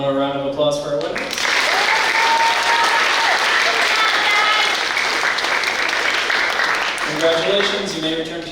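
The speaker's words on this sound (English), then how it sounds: "One more round of applause for our winners." A school auditorium crowd claps for award winners at a sixth grade graduation ceremony, sustained even applause lasting several seconds, with voices and some musical or tonal sounds before and after.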